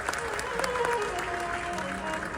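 Audience at a ghazal singing performance applauds steadily, a dense wash of clapping with faint musical tones and voices mixed in beneath it.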